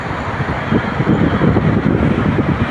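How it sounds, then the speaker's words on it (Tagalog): Loud, steady roaring gusts buffet the microphone at Victoria Park, Causeway Bay, Hong Kong, a strong wind rumbling continuously with no voices. "wow, lakas ng hangin"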